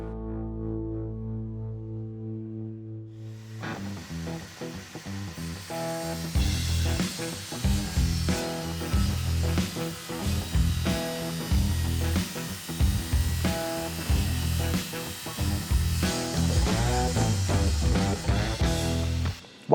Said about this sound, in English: I'm gonna have to cut through this red strip